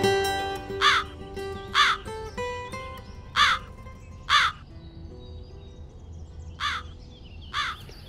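A crow caws six times at fairly even intervals, loud and close, over soft background music with no talk.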